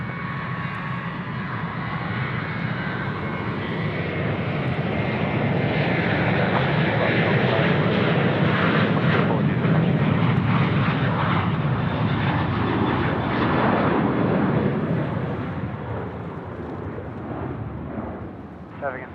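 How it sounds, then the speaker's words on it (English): A Dash 8 turboprop airliner lining up on the runway at Sydney Airport, its engine roar and propeller drone swelling steadily and loud before easing off, heard from a spotting position outdoors. "the dash 8's now lining up"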